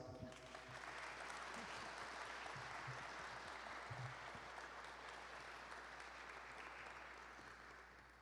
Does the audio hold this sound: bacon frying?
no